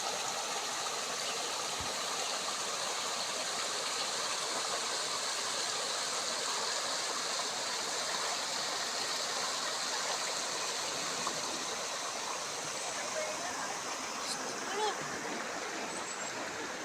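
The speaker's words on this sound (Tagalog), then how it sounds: "Ayan yung sapa po dito." A countryside creek flows in a steady, close, broadband rush of water that runs unbroken throughout, with faint trickles and splashes on top.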